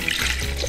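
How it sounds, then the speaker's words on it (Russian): Milk, 250 ml, pours into a blender cup in the kitchen as a steady liquid splash and trickle, close and continuous. "В чашку для блендера мы наливаем 250 мл молока."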